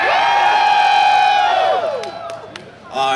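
A crowd at the MLG Dallas 2010 gaming tournament opening erupts in loud cheering and whooping that swells briefly then fades, followed by a fresh burst of shouts at the very end.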